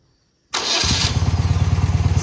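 A BMW Airhead motorcycle engine, 1970-1995 model with Bing carburetors, cranks and catches after a silent moment, then settles into a loud, steady, rhythmic idle close by with no talk.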